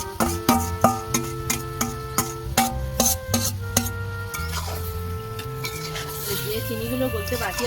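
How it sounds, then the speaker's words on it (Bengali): Raw mango pickle with sugar is stirred in a pan over low heat, with a spoon clinking and scraping and a soft sizzle under prominent background music. "হালকা আঁচে এইভাবে নাড়তে হবে"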